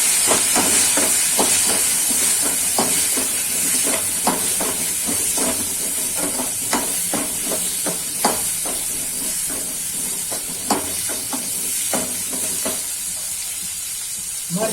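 Mustard seeds and asafoetida crackle and sizzle in hot oil as a tempering for gunda sambharo, a steady loud hiss with scattered sharp pops throughout, spattering densely at first and thinning slightly toward the end.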